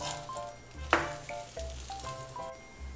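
Thalipeeth flatbread fries in oil on a tawa with a soft, continuous sizzle and crackle, one brief louder spatter partway through and faint scraping sounds under it.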